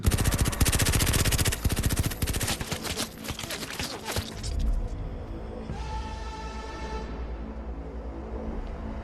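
Rapid bursts of automatic gunfire from an action film climax crackle loudly for several seconds, then give way to rumbling dramatic sound and a lingering music tone.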